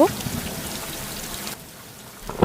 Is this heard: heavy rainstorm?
yes